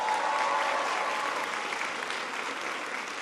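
Dense, steady applause from a large audience welcoming New York Governor Andrew Cuomo at an education event, sustained and even throughout with no voices on top.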